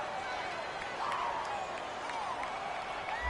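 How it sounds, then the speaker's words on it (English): A home football crowd in a stadium roars steadily after a penalty call in a Titans versus Seahawks game, a broad distant wash of cheering and applause that holds at a constant level throughout. "This home crowd, they're happy with that call."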